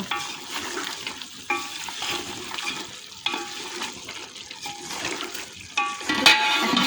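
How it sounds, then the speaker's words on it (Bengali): Chicken biryani meat being stirred in a pan after tomato sauce is added, with a spoon scraping and turning in uneven strokes over a soft frying sizzle, close and steady, with no talking. "এখন আমি একটু টমেটো সস দিয়ে দেব, মিশিয়ে নেব।"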